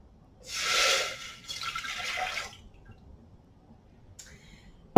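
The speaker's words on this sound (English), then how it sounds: "first I'm going to add our orange juice and our water" Orange juice and water are poured into a saucepan on a stovetop burner. Two soft, hissing pours run for about a second each, one straight after the other, and end with a faint drip and a click.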